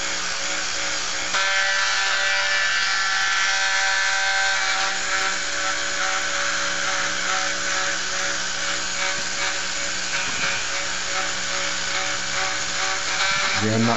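A polishing machine buffs a 1911 pistol part to a mirror shine, giving a steady, loud, close electric whine that runs without a break while a person talks over it.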